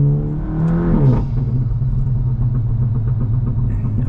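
A car fitted with an iE adjustable crackle exhaust tune revs and then lifts off, its engine dropping into a low rumble with faint crackles and pops trailing through the exhaust, heard from inside.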